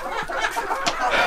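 Hens and a rooster cluck in short, uneven bursts, several quick clucks scattered over a second or so, fairly close by.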